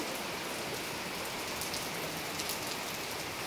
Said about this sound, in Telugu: ఎంత బాగా పడుతుంది గైస్ వాన.